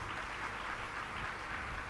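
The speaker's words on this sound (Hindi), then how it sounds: "लॉयंस क्लब के सब लोगों के काजे एक बार ताली बजाओ।" An audience claps steadily for the Lions Club at a devotional gathering, producing a dense, even wash of applause with no voices over it.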